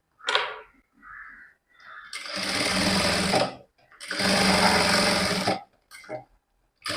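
A sewing machine stitches frills onto a peplum top made from a kurti, whirring in two sustained runs of about one and a half seconds each. Short pauses and brief clicks sit between the runs.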